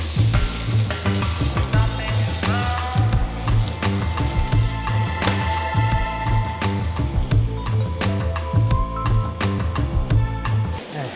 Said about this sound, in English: So browning the chicken with our saute, this is kind of the equivalence of the American fried chicken